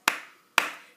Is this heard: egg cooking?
no